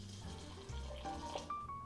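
Water pours into a measuring container in a home kitchen, a brief, close, continuous trickle lasting under two seconds with no voices.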